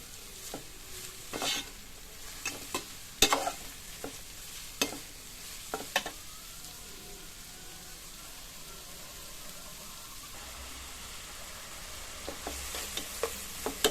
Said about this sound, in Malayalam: ഇനി ഇതിലേക്ക് ഒരു ടീസ്പൂൺ ഉപ്പിട്ട് കൊടുക്കാം ഉള്ളിയൊക്കെ ഒന്ന് പെട്ടെന്നൊന്ന് വഴണ്ട് കിട്ടട്ടെ